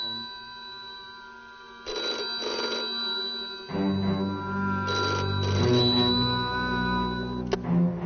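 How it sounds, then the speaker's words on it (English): A telephone bell rings indoors in bursts, a few ring cycles repeating with short pauses between them, fairly clear over a quiet background with low music or room tone. "Your phone's ringing."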